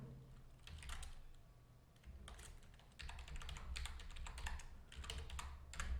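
Someone types an email address on a computer keyboard, with quick bursts of close, light key clicks separated by short pauses.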